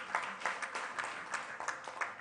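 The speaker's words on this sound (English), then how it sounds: "Please give him a round of applause." An audience claps at a World Parliament Day event, a loose, moderate applause of scattered, uneven hand claps with soft gaps between bursts.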